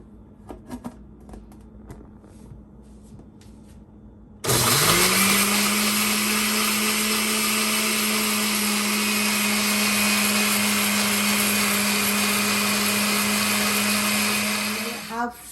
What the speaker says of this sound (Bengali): হাফ শস্যটা ব্লেন্ডার করছি